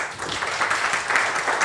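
Indoor audience at a community mapathon talk clapping together in a steady, fairly close round of applause that carries on evenly for the whole stretch, with no voices over it.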